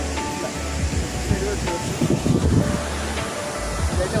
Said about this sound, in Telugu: ఎత్తిపోతల వాటర్ ఫాల్స్ వరకు వచ్చేసాం. ఇది వాటర్ ఫాల్స్.